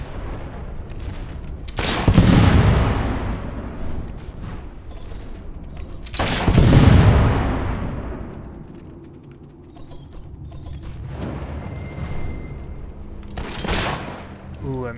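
Gunfire during a shootout in the video game Fable 3, heard as several heavy, booming bursts spaced a few seconds apart, each trailing off slowly, with quieter lulls and a softer final volley.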